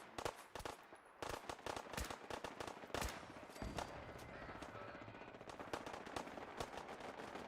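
Settlement turrets firing in the video game Fallout 4, dense rapid bursts of automatic gunfire with sharp cracks, fairly faint overall and continuous throughout.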